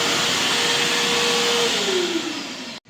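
A hand dryer blows loudly and steadily in a restaurant washroom, a continuous close roar that winds down near the end and then cuts off abruptly.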